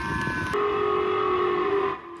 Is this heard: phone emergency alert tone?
yes